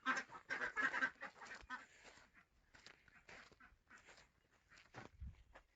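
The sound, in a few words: ducks quacking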